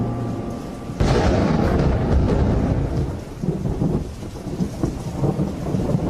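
Steady heavy rain pours close by, and after a moment a loud thunderclap breaks in and rolls on as a long rumble beneath the constant downpour.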